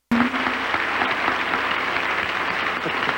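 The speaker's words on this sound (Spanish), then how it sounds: "Un aplauso para las voces blancas" An audience applauds a children's choir at a 1986 awards ceremony, with sustained, dense clapping that starts abruptly and continues loud and even throughout.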